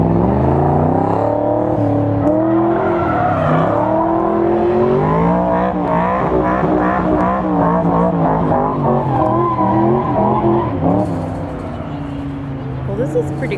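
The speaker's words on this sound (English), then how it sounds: "See that? Smoke tires," A car doing a smoking burnout at a Ford car show, its engine roaring loud and continuous with rising and falling revs for the whole stretch, tires squealing and a voice talking over it near the end.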